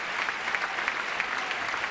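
An audience at the Palau de la Música Catalana applauds young choir singers after the Sant Esteve concert, a dense hall-filling wash of clapping, steady and sustained with soft rhythmic pulses and no voices.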